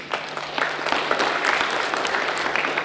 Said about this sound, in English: may I ask for a round of applause for the people in the Presidium